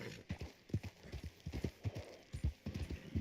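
Horse hooves clip-clop in Red Dead Online, a quick, steady rhythm of close hoofbeats on hard ground at a fairly low level.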